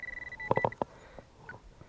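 A metal detector gives a steady high-pitched tone, then a quick cluster of sharp electronic beeps while sweeping over crumpled foil during an outdoor treasure hunt. The sound is close and moderately loud, with no talk.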